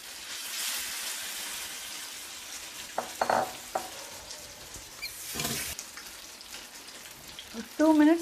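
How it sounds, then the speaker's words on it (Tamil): Fish shallow frying in hot oil on a tawa, a steady crackling sizzle throughout with occasional louder spatters and brief clinks of utensils, close and fairly loud. "இப்போது மீனை நம்ம ஷாலோ ஃப்ரை பண்ணிடலாம்."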